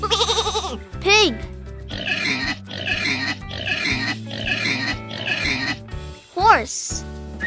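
A pig oinks and grunts in a run of five or six rough, snorting bursts, close and steady, bracketed by short sliding squeaky calls at either end, over soft background music.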